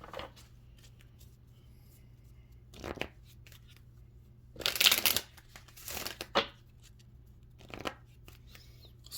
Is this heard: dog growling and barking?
no